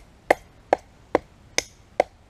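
Cold Steel Leather Neck Tanto knife chopping into wood in five sharp, evenly spaced strikes, close and crisp with quiet gaps between.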